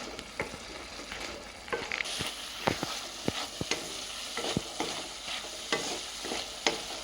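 Mushroom masala frying in a pan, with a steady low sizzle under repeated sharp scrapes and knocks of a spoon stirring, close and without talk.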